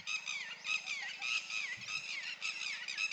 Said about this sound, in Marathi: हिचा आवाज इंग्रजीमध्ये डिड ही डू इट म्हटल्यासारखा येतो